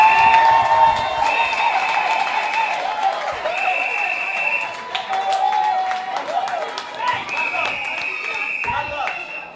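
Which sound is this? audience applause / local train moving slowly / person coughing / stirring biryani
audience applause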